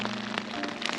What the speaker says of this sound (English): it does actually rain now a lot, and hope the rain will stop someday